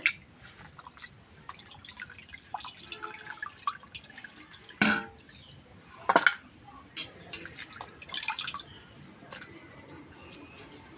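Water drips and trickles while raw cut chicken is washed by hand, with soft splashes and a few louder bursts of running water against a quiet background.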